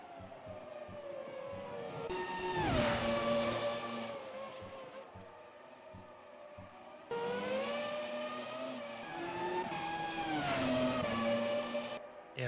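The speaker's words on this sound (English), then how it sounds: "we see one of the Arrows cars just going off right in front of the leader" An Arrows Formula 1 car in a racing video game screams past, its high engine note sliding up and down through gear changes over a second car's whine, loud and continuous with no talk.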